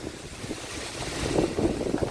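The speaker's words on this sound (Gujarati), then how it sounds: "પવન અતિશય છે" Strong, gusty wind before rain in a village, buffeting the microphone, a low rumbling roar that swells and surges throughout.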